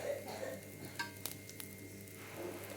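Oil drizzled around the edge of a dosa on a nonstick chapati tawa gives a steady, soft, close sizzle, with a few faint scraping clicks over it.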